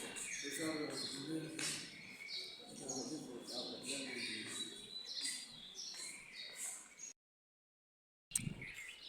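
Birds chirp and tweet in the early morning outdoors, a scatter of small calls at moderate distance that keep going under a person's talk before the sound briefly drops out.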